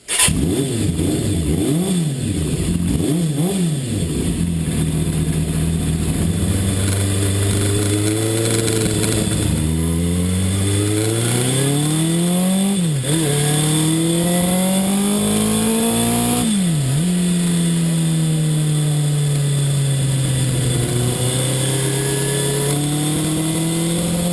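Kawasaki GPz750 motorcycle ridden hard at speed, its engine revving up and down through repeated gear changes with steady wind rush, loud and continuous, recorded from on the bike, which misfires at higher RPM under wide-open throttle.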